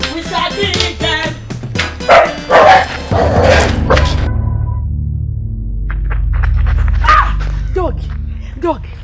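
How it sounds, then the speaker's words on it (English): A dog barks several times in sharp, close bursts near the end, after a stretch of people talking loudly, with low background rumble throughout. "Dog. See this dog."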